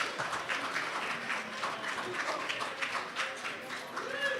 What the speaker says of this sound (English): Please give a round of applause to King Kong Luis Ortiz